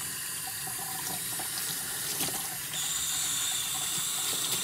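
Hot tap water runs steadily into a sink for rinsing buffer pads, a constant close hiss and splash that grows slightly louder partway through.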